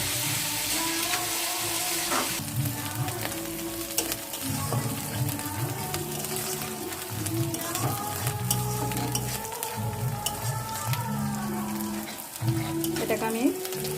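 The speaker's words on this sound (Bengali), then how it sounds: "একটু ভাজতে হবে।" Chicken pieces frying in a pan for a home-style recipe, a continuous sizzle broken by repeated stirring and scraping strokes, close and moderately loud, with faint background music.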